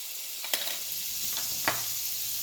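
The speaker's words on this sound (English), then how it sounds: "I'm gonna add in my ingredients, which is 3 tablespoons of unsalted butter. And I'm gonna let that melt down." Three tablespoons of unsalted butter sizzle softly as they melt in an oven-safe pot, a steady frying hiss broken by a few brief clicks of a utensil.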